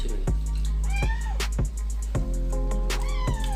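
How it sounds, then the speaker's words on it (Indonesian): A cat meows repeatedly, several drawn-out cries at a steady pace, over a constant low hum and background noise. "Tuh sampai suara kucing nih."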